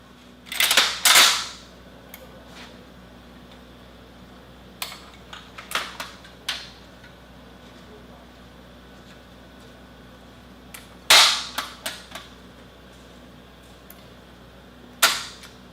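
Scattered sharp reports and metallic clacks come from a Russian AGS-17 Plamya 30mm automatic grenade launcher, its crew clearing a feed problem before firing resumes. The bursts land at irregular intervals, fairly distant, with quiet handling noise between them.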